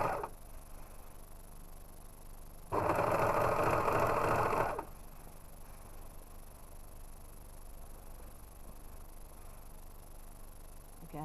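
A sewing machine stitches a binding band onto a garment neckline: a steady, even two-second whir in the middle, with a quiet room before and after.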